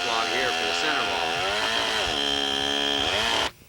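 Chainsaw cutting lengthwise through a half log for a log home's center wall, a loud continuous whining drone that shifts in pitch as the cut proceeds, then stops abruptly near the end.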